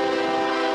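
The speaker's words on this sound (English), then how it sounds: "Here comes our CSX 558 from Cincinnati, Ohio to Willard, Ohio" A CSX freight train, the 558 running from Cincinnati to Willard, Ohio, sounds a loud, steady horn blast close by, with no talk over it.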